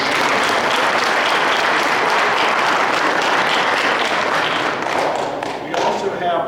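Sustained applause from an audience at a high school football banquet, a dense, loud wash of clapping that holds steady throughout before thinning slightly near the end.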